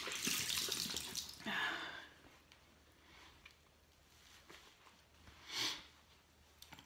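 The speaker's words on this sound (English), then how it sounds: "So I'm going to give it one more wash." Tap water runs while makeup is washed off the face at a sink, a soft splashing wash that swells and fades in short bursts, fairly quiet and close.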